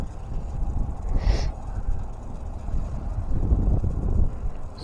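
Wind blowing across a fishing lake on a cold day, a steady low rumble of gusts buffeting the microphone with a brief hiss partway through, with no voices.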